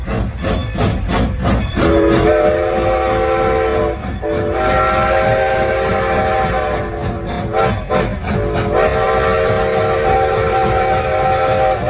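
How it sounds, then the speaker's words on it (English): A steam train at Nashville's Union Station rumbles steadily along the tracks, loud and continuous, with a sustained tonal whistle-like hum and hissing steam running through. "comes a low rumble of iron wheels, the soft hiss of steam, and the feeling that an unseen train is moving along the tracks"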